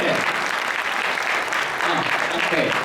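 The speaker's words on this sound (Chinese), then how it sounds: "让我们再度以热烈掌声" A dense, steady burst of audience applause fills a hall at a coffee product launch event, many hands clapping at once with no break for the whole stretch.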